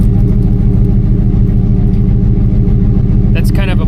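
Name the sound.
car engine running with leaking exhaust gasket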